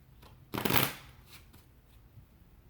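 Tarot cards being shuffled in a quiet, fairly empty room: one crisp riffling burst lasting about half a second, then a few faint card flicks and soft handling noises.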